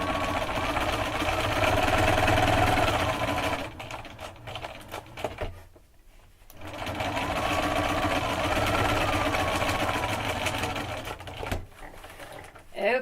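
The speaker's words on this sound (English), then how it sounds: "So I'm just going to sew that down." Sewing machine stitching down a quilt block for a March 2018 block-of-the-month quilt, running in a steady rapid hum with a brief pause midway before resuming, close and moderately loud.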